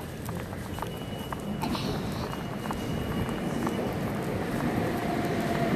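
New York City subway train arriving at a Manhattan station platform, a steady, dense rumble and clatter that gradually swells over several seconds, with faint voices in the background.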